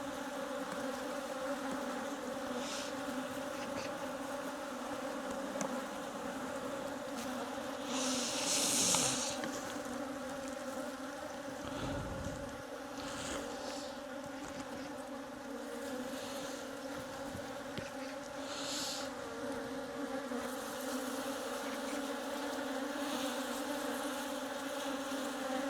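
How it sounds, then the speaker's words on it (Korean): Native Korean honeybees swarm around an opened hive during a winter wake-up in January, making a dense, steady buzzing drone throughout, with a few louder passes of individual bees close by. "아직까지 벌들이 좀 예민한 시기이기 때문에 많이 달려듭니다."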